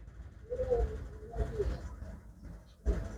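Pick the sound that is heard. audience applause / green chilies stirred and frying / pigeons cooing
pigeons cooing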